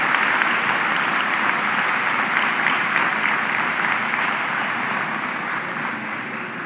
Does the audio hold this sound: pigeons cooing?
no